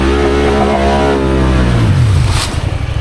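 A Pioneer 1000 UTV in manual low range, first gear and four-wheel drive with diff lock, pulls through thick mud, its engine droning loud and close and rising in pitch, then dropping into an uneven churning rumble.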